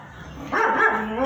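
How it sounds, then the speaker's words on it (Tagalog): A dog barks and yips loudly at close range starting midway, with a muffled voice faintly underneath before the barking begins. "Yung mga aso ko, bigla na lang tatahol."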